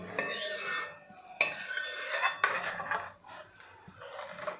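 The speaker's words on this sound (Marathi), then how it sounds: "ही भाजी एकदा मिक्स करून घेऊ" Pavata rassa bhaji, a vegetable curry, being stirred in a pot: repeated bursts of scraping and rubbing from a spoon against the vessel, each stroke a few seconds long, close and moderately loud with no talk.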